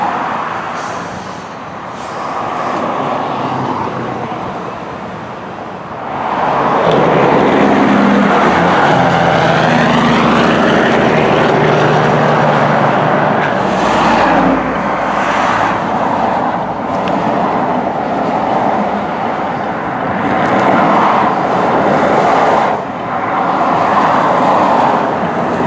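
Trucks pulling away from a race track line, loud engines roaring and rising together, with heavy rumbling and shifting revs continuing close by throughout.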